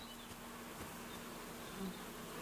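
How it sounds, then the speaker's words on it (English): Bees in the Kingdom Come: Deliverance II game world give off a steady, faint buzzing drone that holds evenly throughout with no voices over it. "Oh, there's bees!"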